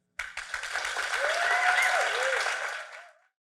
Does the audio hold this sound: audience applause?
yes